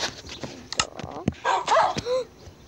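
Dog barks and whimpers from the Minecraft video game, several short yips and a few louder bursts spread across the moment, close and clear, with a person's voice faintly mixed in.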